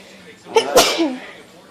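One sharp sneeze breaks out nearby, a quick inhaled build-up followed by a loud burst, with no talking around it.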